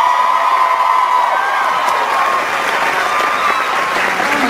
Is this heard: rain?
no